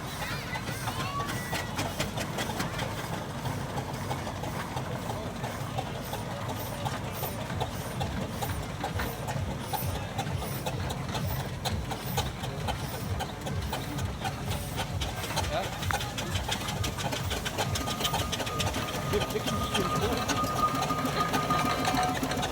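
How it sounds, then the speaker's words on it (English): A Shuttleworth general purpose steam engine chuffs along in a steam rally parade, a fast, steady mechanical beat with clanking rhythm carrying on throughout at moderate distance, with crowd and ambient noise around. "Splendid Shuttleworth general purpose engine."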